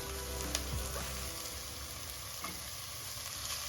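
A methi rice mixture fries steadily in a pan, a continuous close sizzle with faint stirring scrapes and no voices.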